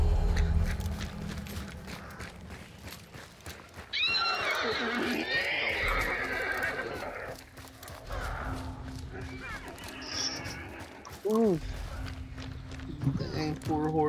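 In the video game Hunt: Showdown, a horse lets out loud, shrill neighs and whinnies over a steady rumble of gameplay noise, with hoof clatter and a later shorter whinny; a player talks over parts of it.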